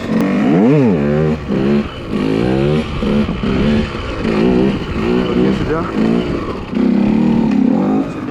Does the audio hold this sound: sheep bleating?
no